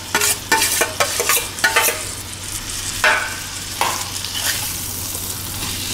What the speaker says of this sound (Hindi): देखिए इस तरह से आलू को तोड़ना है